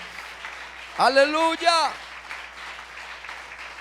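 A church congregation applauds steadily and at moderate volume throughout, while a voice briefly calls out over the clapping.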